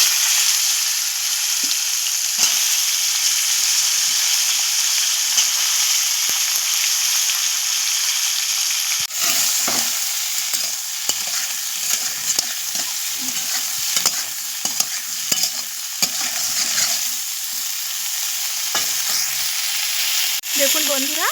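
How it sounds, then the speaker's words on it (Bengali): Cauliflower florets frying in oil, a steady loud sizzle throughout with frequent scraping and stirring knocks from the spatula, continuing alone for over twenty seconds. "ওই তেলেই ফুলকপিগুলো আমি একটু ভেজে নেব।"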